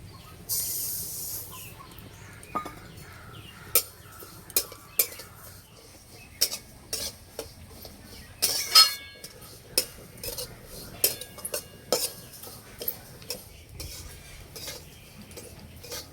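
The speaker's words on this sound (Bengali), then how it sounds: "উনান জেলে কড়াইটা বসিয়ে দিয়েছে, কড়াইটা ভালো করে গরম করে নিয়েছি। প্রথমে তিল ভেজে নেব।" Sesame seeds dry-roasting in a hot kadai over a stove, stirred so a metal spoon scrapes and clinks against the pan at irregular moments over a soft steady hiss.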